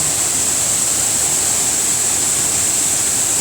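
Thi Lo Su waterfall pours with a steady, loud, unbroken roar of rushing water that fills the whole stretch, with no voices over it.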